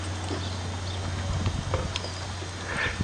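A ridden horse walks at a clinic, its hooves clip-clopping in an irregular, moderately close rhythm over a constant low hum, with no talk.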